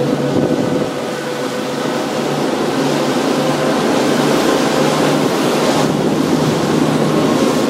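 A SeaHunter 40-foot boat running at speed across open water, a steady loud rush of hull spray and wind noise over a low engine drone, with no voices.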